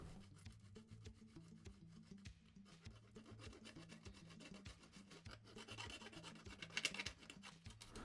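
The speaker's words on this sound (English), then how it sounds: "it's time to just clean the rest of it up with the edge of a file" A hand file rasps along the cut edges of a plastic car body panel, scraping off sticky melted burrs in steady back-and-forth strokes, close and moderately loud with no talking.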